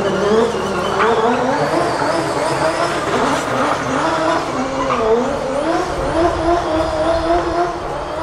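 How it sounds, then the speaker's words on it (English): A Red Bull Formula 1 car roars continuously at close range during a burnout at a Belfast showrun, its tires squealing in rising and falling whines, loud and sustained throughout. "Mattie Griffin burning some rubber."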